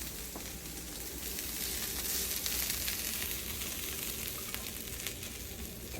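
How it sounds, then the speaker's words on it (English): Food sears in a hot pan, giving a steady, close, dense sizzle that holds evenly for several seconds with no talking. "Now we got a little bit of a brown on there, a little sear"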